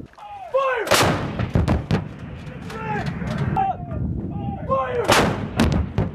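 Artillery pieces fire loud, close booms during a 2019 air assault course, sharp blasts spaced a second or two apart, mixed with people shouting and cattle lowing in between.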